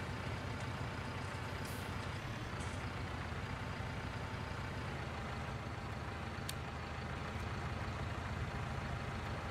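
A tractor rig with front loader driving out in Landwirtschafts-Simulator 19: a steady, continuous engine drone at moderate level, with a couple of brief hissing air-brake-like bursts.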